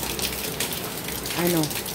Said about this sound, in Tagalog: Malakas yung ulan dito ngayon